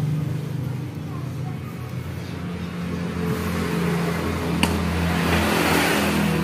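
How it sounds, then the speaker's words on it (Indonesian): A Honda Vario 125 scooter engine idles and revs steadily nearby, a droning hum with a faint rattling whir from the roller housing underneath, while a person talks over it. "ini suaranya kedengeran. Kayaknya suara rumah roller kayaknya"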